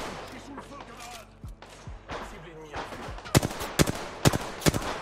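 Bursts of gunfire in an Apex Legends match, scattered single and rapid shots growing louder and sharper in the latter half, with game ambience and faint voices underneath.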